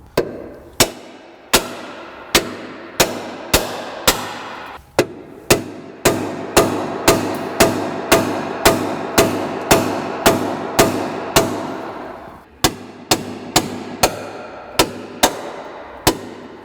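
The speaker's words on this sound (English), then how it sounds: "I'm just gonna come in here with my hammer and try to adjust it a little bit more" A hammer strikes the control arm of a 1998 Mazda 626 in a garage, about twenty sharp metallic blows in uneven bursts, each ringing briefly before the next.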